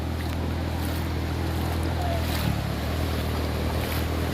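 Sea waves wash ashore at Puri beach, making a steady, close roar of surf with wind noise buffeting the microphone throughout.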